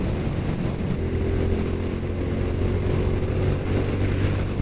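A 2022 Honda Super Cub 125 climbs uphill in fourth gear at full throttle, its engine a loud, continuous drone mixed with rushing wind noise and no voices.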